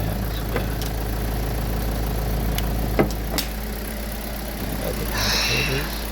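Rebuilt Kia Rio G4LC engine running at a steady idle, a close, even, low mechanical hum with a few faint ticks and clicks over it.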